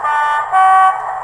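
A Hornby Class 37 model locomotive's sound-decoder horn gives two steady tonal blasts, one pitch then a louder second, played back alone at close range.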